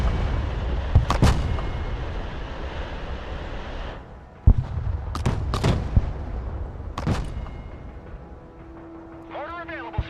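Mortar and artillery fire rings out in the war video game Broken Arrow: several heavy booms and sharp blasts spaced a few seconds apart over low battle rumble, with radio-style voices talking.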